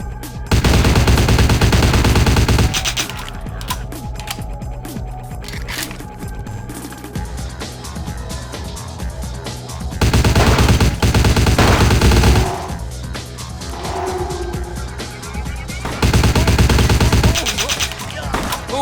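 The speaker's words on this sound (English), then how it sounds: "I assumed everyone heard the gunfire in the room." Bursts of automatic gunfire fill a room in Vampire: The Masquerade – Bloodlines, loud rapid volleys that come in several separate clusters with quieter gaps, crashes and scattered noises between them.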